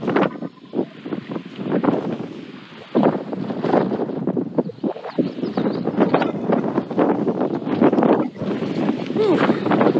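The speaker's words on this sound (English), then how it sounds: "That wind is whipping." Strong, gusty wind roars across open high country in the Dolly Sods Wilderness of Monongahela National Forest, battering the microphone in loud buffeting bursts throughout, with a voice and exclamations mixed in.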